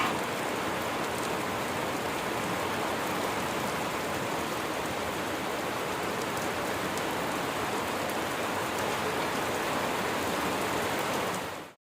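Heavy rain during a storm falls steadily and loudly, a dense unbroken hiss of drops on surfaces with no voices, cutting off abruptly at the end.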